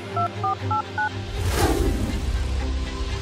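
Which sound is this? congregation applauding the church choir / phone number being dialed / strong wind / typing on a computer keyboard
phone number being dialed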